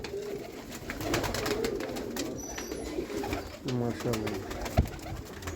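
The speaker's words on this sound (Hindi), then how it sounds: "ये देखें दोस्तों, ये छत वाले कबूतर माशाल्लाह।" Sialkoti rooftop pigeons coo in a low, steady chorus nearby while someone talks over them, with a few sharp clicks and knocks.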